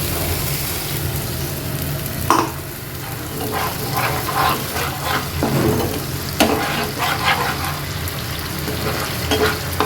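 Spices fry and sizzle steadily in a little oil with splashes of water in a pan, a continuous crackling hiss broken by louder bursts and stirring scrapes, close and alone.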